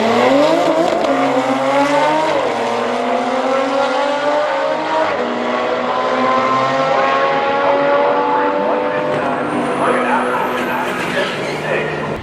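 A modified Porsche Turbo S drag racing an Audi RS3, loud engines pulling hard through rising revs with several gear shifts in a long sustained run, plus a brief high tire whine near the end.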